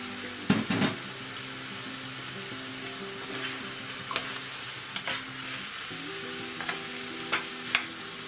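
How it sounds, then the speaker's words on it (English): Fish sauce goes into a sizzling pan of sautéed chayote and pork, giving a steady frying hiss broken by sharp spatula clicks and stirring scrapes. "We put down the fish sauce or patties."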